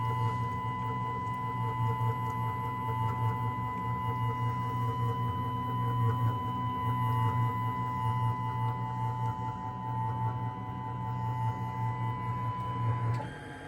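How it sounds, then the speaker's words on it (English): A Rolleri Up-Grind CNC tool grinder hums and whirs steadily while homing, with a constant motor drone and faint tonal whine, running smoothly for a long stretch before changing at the end. "press the reset button, not homed button, and the machine finds home position automatically"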